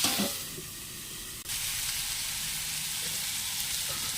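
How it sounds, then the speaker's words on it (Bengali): Potatoes and eggplant fry in a pan with a loud, steady sizzle, a brief stir or clatter near the start, then an even crackling hiss throughout. "আলু বেগুনটা প্রায় ভাজা ভাজা হয়ে যাচ্ছে"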